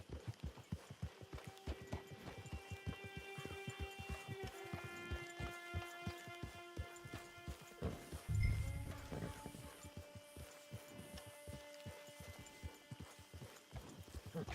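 A horse's hooves clip-clop in a steady walking rhythm in the video game Red Dead Redemption 2, close and distinct, with a sustained musical score running underneath and a brief heavier thud partway through.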